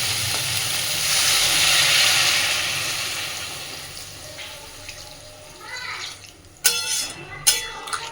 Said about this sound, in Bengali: এইবার দিয়ে দিচ্ছি ঝোলের পরিমাণ অনুযায়ী জল।